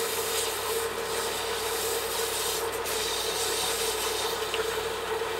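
A small wooden coffee spoon being sanded with 400-grit sandpaper, a steady, dense, continuous rubbing hiss close to the listener, unbroken throughout with no talk.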